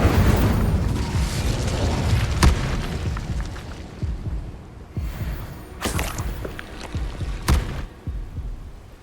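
The Incendio fire spell being cast in Hogwarts Legacy, a deep booming whoosh of fire that rumbles and fades, followed by several sharp impact cracks spaced a couple of seconds apart.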